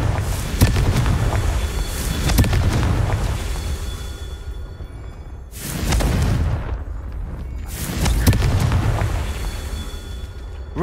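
Confringo fire spell explosions in the Hogwarts Legacy video game, cast during a Merlin trial: three loud, heavy blasts, each with a sharp onset and a long rumbling fiery tail that fades before the next hits.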